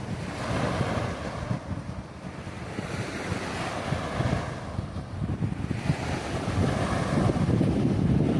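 Strong wind blows across a beach, roaring and buffeting the microphone continuously, with waves surging beneath it and no voices.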